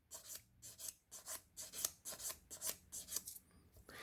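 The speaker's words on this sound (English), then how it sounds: "I'm sanding in a way that I'm matching the curve of the housing on the transmission here." Rhythmic back-and-forth rasping of sandpaper rubbed by hand against a plastic transmission housing, following its curve, close and fairly loud, about a dozen strokes with a short pause.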